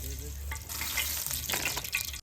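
Bay leaf, cinnamon, cloves and poppy seeds hit hot oil for a mutton curry, setting off a brief bubbling sizzle with light crackles.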